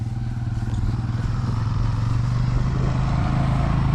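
A child's dirt bike riding on a dirt turn track, a steady buzzing engine drone at moderate distance that swells slightly, with no talk.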